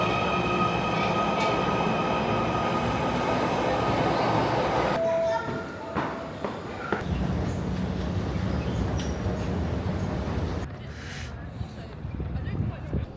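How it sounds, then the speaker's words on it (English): An underground train pulls away from a Liverpool station with loud rumbling and wheel noise that gradually fades, leaving echoing station ambience with faint squeals. "We're going to watch this train go"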